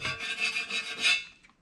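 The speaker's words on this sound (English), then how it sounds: "anytime you're scraping dirt off the edges" Scraping dirt off the aluminum edges of a 2008 Dodge 2500 Cummins with a hand scraper, a close, steady rasping rub in several quick strokes that fades out at the end, with no voices.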